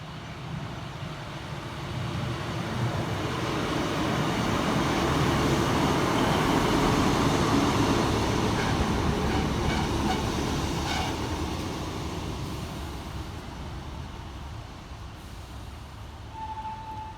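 A Class 150 diesel unit, 150245, on a Transport for Wales service pulls into a station near Ystrad Mynach, a loud steady rumble of engine and wheels building then easing as it slows, with a short high tone near the end.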